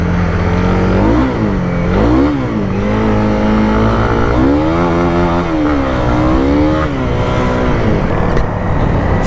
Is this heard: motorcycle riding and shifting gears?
yes